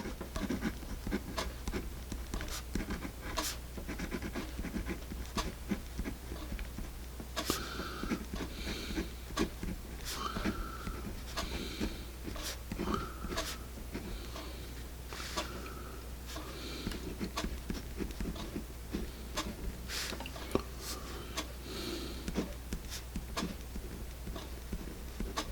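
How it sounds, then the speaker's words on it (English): Ballpoint tip of a Paper Mate InkJoy Quatro four-color pen scratching across paper, a steady close run of small strokes and taps with brief pauses, no voices. "let's get started and do a little writing with this Papermate Inkjoy"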